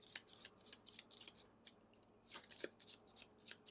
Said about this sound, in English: we need to get these 2 decks shuffled